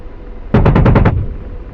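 A short, loud burst of about six rapid cannon rounds from an Apache helicopter's guns in a video game, evenly spaced and close, then cutting off cleanly.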